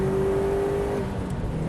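Turbocharged Subaru Impreza Cosworth pulling hard in fourth gear from around 3,000 rpm on an open road, a steady loud engine drone with a sustained tone that cuts off partway, heard from inside the car.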